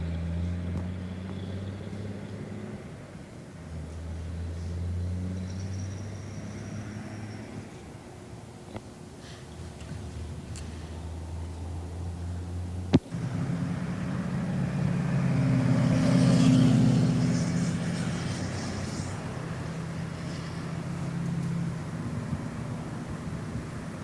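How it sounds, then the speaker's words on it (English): Heavy trucks pass near a property, a low rumbling drone that swells and fades as vehicles go by, with a sharp knock midway and a louder pass building toward the end; no one speaks. "You get a lot of truck traffic coming through too."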